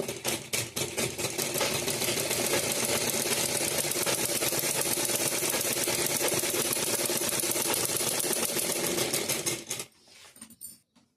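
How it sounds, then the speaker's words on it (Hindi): A sewing machine runs steadily for about ten seconds, tacking stitches on a cotton blouse, with a fast even mechanical chatter that is close and loud before stopping abruptly. "पाँच इंच पर टेकिंग का सिलाई लगाएंगे।"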